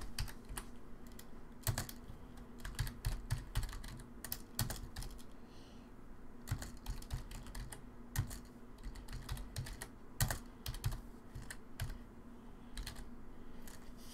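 Rapid keystrokes on a computer keyboard clatter steadily and close, in irregular bursts with brief pauses, over a low constant hum.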